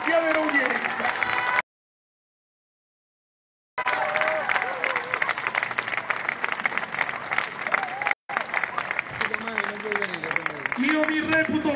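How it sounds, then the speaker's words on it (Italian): Crowd applause at an outdoor rally in Piazza del Gesù for the No Paura Day demonstration, dense clapping mixed with some cheering and crowd voices, interrupted by a couple of abrupt silent gaps. "vorrei un applauso da parte vostra"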